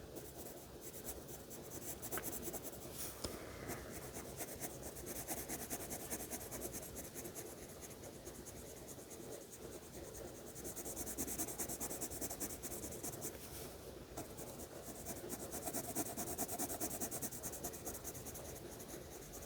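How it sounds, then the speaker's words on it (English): A dark green coloured pencil colours steadily across paper, making a soft continuous scratching and rubbing that rises and falls slightly in strokes, close and quiet, with no talk. "So I'm going to color that in with my dark green, and I'm turning my pencil once in a while to make sure I don't wear it down on one side."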